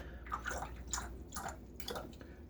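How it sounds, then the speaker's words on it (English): A wet shaving brush is shaken out, giving a few quiet, separate splashes and drips spaced irregularly in a hushed room. "My usual thing of shaking most of the water out."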